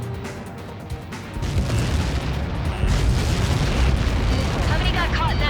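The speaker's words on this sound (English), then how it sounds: "How many got caught in that explosion?" A massive blast strikes in the combat flight game Ace Combat 7, a deep booming explosion that swells into a loud, sustained rumbling roar with crackling debris, following a quieter stretch.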